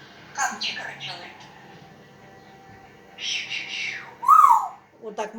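A pet bird gives a clear, rising-and-falling whistle in imitation of its owner's whistling, along with brief squawks and chirps, while someone talks softly to it between the calls.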